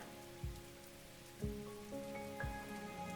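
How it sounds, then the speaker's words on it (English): Tropical rain near the equator in Tuvalu falls as a soft, steady patter, with a few louder drops at intervals; it is faint and there is no talk. "And rain is never far."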